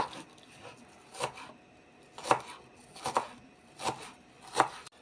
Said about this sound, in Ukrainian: Нарізали ми цибульку